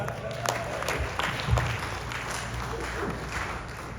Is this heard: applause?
yes